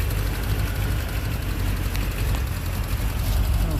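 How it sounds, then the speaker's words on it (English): An old truck engine fitted with Holley Sniper EFI idles under the hood, a steady low rumble with a fine rapid ticking from the fuel injectors running through it, close and continuous. "You can hear the injectors snapping. It does have Holley Sniper EFI."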